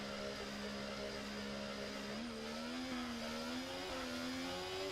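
A race car engine drones steadily in a racing video game, a continuous mid-pitched whine whose pitch rises and dips slightly as it shifts and revs, with no talk over it.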